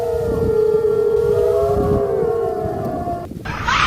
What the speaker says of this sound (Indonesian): Suara hewan bersautan muncul aungan serigala malam dan berbagai macam suara misterius menyayat-nyayat jiwa.